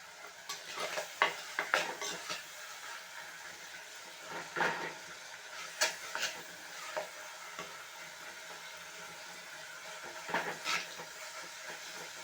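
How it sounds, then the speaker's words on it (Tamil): Tomatoes and onions sautéing in a pan for a traditional kuzhambu, with a quiet ongoing sizzle and intermittent stirring scrapes and spoon taps, fairly faint and close, with no speech. "இப்போது தக்காளி வெங்காயம் ஓரளவுக்கு நல்லா வதங்கி வந்திருக்கு."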